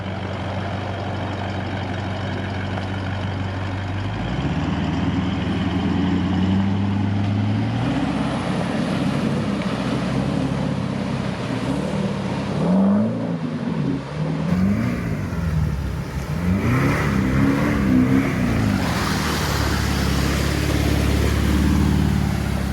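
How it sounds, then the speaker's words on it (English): A Toyota Land Cruiser plunging into a deep river crossing: a steady engine drone rises as it enters, then loud churning water and rumbling engine build and persist near the microphone, no talking. "I got the cruiser ready for the plunge"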